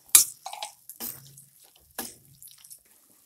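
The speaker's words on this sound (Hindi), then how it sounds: "इसके बाद हम तुरंत इसमें डालेंगे पानी" Water is poured into a green chilli pickle mixture in short splashy bursts, roughly one each second, close by and with no talking.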